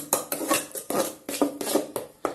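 A spoon scrapes and clinks rhythmically against a pan while sugar is stirred into apple kesari, a sweet semolina dish, in quick, close, steady strokes with no talking.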